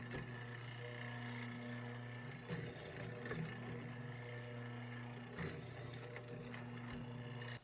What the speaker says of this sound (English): Start by cutting mortise and housing pockets on the mortising machine while the wood is still square.